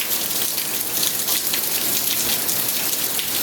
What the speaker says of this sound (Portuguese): mas já tá chovendo demais